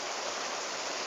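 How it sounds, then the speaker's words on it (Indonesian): A waterfall at night pours in a dense, steady hiss of rushing water, continuous and close, with no voices. "Nah, ini air terjun teman-teman, ini air terjun"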